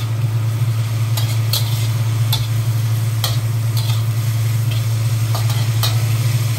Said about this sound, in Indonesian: Kemudian saya aduk sampai rata dan akan saya tutup sebentar.